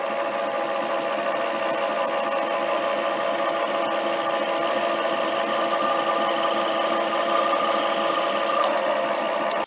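A drill bit in a metal lathe's tailstock bores a starter hole at around 800 rpm. The lathe motor hums steadily while the cutting adds a continuous rubbing, grinding texture, close and even for nearly ten seconds, with no speech.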